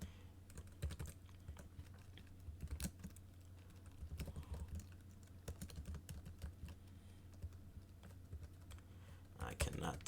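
Typing on a computer keyboard while coding, a quiet, close patter of irregular key taps and occasional bursts, faint and continuous throughout with no talking.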